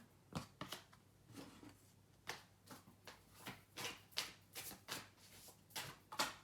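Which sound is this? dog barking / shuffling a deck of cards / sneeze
shuffling a deck of cards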